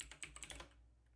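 Quiet keyboard typing on a computer, a quick burst of several light key clicks that fades into silence, with no voices.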